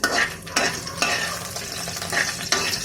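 Dried red chillies and cumin seeds frying in a kadai for spicy chutney, with a steady close sizzle broken by a few sharp spoon scrapes and stirring knocks against the pan.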